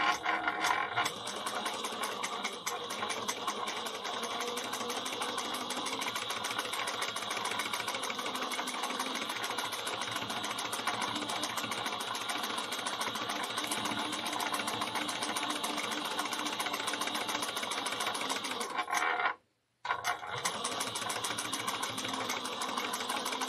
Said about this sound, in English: So we're going to baste this at 1/8 of an inch.